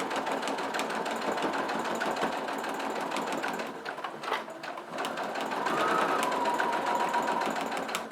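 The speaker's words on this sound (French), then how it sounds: "je vais faire une couture au point droit à l'aide de mon pied à fermeture éclair ici en haut" Sewing machine sewing a straight stitch with a zipper foot on a pyramid-shaped zip pouch, running continuously and steadily near the mic, briefly dipping midway before resuming.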